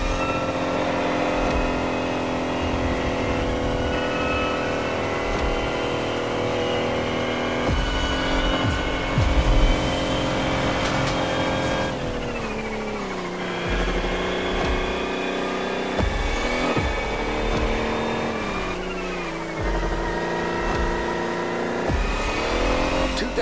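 An electric race car in The Crew Motorfest accelerates hard with a loud, steady, rising motor whine, shifting in pitch a few times as the car pulls away, with no talk over it.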